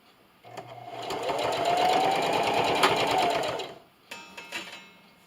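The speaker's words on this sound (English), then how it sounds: "I'm going to start at my first pin here, leaving a good 8 inch tail. And I'm going to backstitch." A sewing machine backstitches and then runs forward along a Halloween quilt-as-you-go table runner, one steady, fairly close whirring stretch followed by a short second burst.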